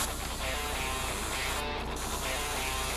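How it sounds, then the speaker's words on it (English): A steady, continuous hiss of an airbrush spraying color onto pastry molds, close and even throughout with a faint mechanical hum beneath. "We are going to spray our molds."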